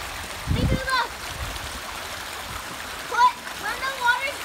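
Creek water flows steadily with a couple of short splashes near the start and end; brief child-like chatter sounds faintly in the background.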